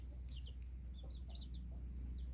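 Chickens in a coop give soft, faint high clucks and chirps in scattered short bursts over a low steady hum, with no talking.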